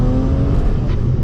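A BMW with an N54 engine pulling hard on a test run, a loud, close, steady engine drone that briefly fills the cabin.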